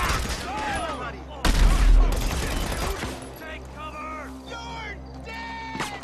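Rapid bursts of AP pistol gunfire in GTA Online, loud and close, with a dense volley near the middle and scattered shots after, while people talk over it.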